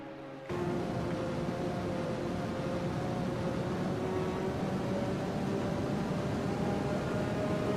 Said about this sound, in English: listen to that low rev whish as it just cruises by